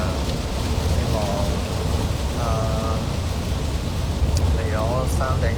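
A downpour of heavy rain keeps up a loud, constant hiss and rumble throughout, while a person speaks intermittently over the drumming water.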